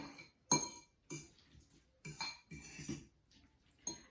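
A utensil scrapes and clinks against a dish while stirring microwave mac and cheese with cornstarch and salt, in several distinct close taps and scrapes separated by short pauses.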